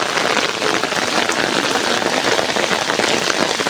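Steady rain pours down on a rural village on a rainy day, seen from a boat, a dense continuous hiss of drops hitting surfaces, loud and even throughout with no voices.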